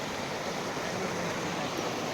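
A river flowing nearby, a dense, even rush of water that fills the short stretch without pause.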